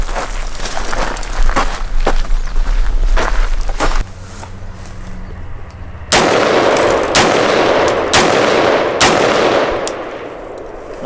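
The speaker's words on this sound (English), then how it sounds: "Now we're going to bury it and take it out and fire some rounds through it." Prema Arms AR-15 rifle firing a series of rounds outdoors, sharp loud reports spaced irregularly, with a rumbling, noisy stretch between the shots.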